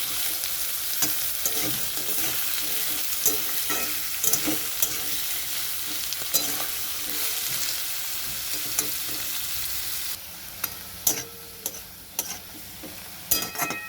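Potatoes and onions being sautéed in a pan, a steady frying hiss with repeated sharp clicks and scrapes of a spatula stirring, continuous and close, the sizzle dropping a little toward the end.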